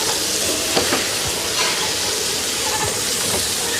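Meat pies sizzle and fry steadily in a pan at a Shandong street food stall, a dense continuous crackle with occasional scraping and stirring, close and loud throughout.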